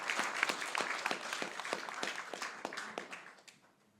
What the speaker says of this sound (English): Let's give a round of applause to Dr. Anurag.